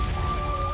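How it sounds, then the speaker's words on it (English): Steady rain of liquid nitrogen falling on a moon's surface in a video game, a dense even patter of drops with no pauses across the short stretch. "It's just raining liquid nitrogen right now."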